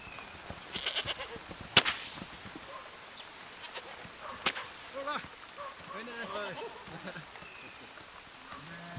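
Sheep and goats being herded outdoors in a mountain valley, with scattered bleats over a quiet background and a sharp whip crack early on; a voice speaks briefly.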